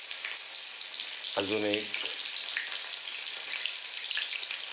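Soya chunks deep fry in oil with a loud, dense, crackling sizzle that runs throughout, and a voice speaks briefly over it partway through.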